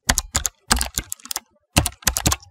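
Fingers type a name on a computer keyboard in quick bursts of crisp, close key clicks separated by short pauses, with no voice.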